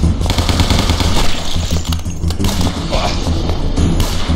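Rapid, dense gunfire from the zombie-shooting video game Guns Gore and Cannoli, loud bursts of automatic weapon fire continuing without pause over chaotic in-game noise.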